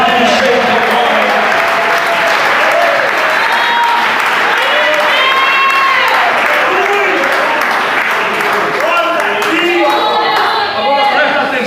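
A church congregation applauds and cheers loudly and steadily, dense sustained clapping filling the room with voices shouting and singing out over it throughout.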